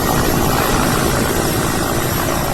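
Helicopter flying during flood evacuation and relief operations in Himachal Pradesh, a loud, continuous rotor and engine roar filling the whole moment up close.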